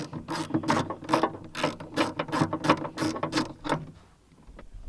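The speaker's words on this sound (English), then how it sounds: "And go in and tighten it down. I'm using hand tools here, guys, instead of my 3/8 ratchet gun" A hand ratchet clicks rapidly in repeated bursts while tightening the battery hold-down on a 2018 Chevy Cruze, close and crisp, then stops and leaves a quiet tail.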